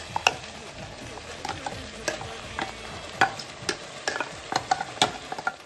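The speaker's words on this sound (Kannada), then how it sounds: "ಇವಾಗ ಮಸಾಲೆನ ಚಿಕನ್ ಜೊತೆ ಚೆನ್ನಾಗಿ ಮಿಕ್ಸ್ ಮಾಡ್ಕೊಂಡಿದ್ದೀನಿ." A spoon scrapes and stirs country chicken with ground masala paste in a pan, with irregular clinks and scrapes over a soft, steady sizzle; no one speaks.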